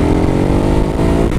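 A Ducati Hypermotard 939 motorcycle engine revs loudly and steadily up close, a brief, dense, throaty burst with no talking.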